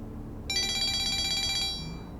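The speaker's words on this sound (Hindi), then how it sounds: "दुआ का फोन है।" A telephone rings with an incoming call in a quiet indoor domestic setting, a bright electronic warbling tone starting abruptly and sounding steadily for about a second before cutting off, with no talking.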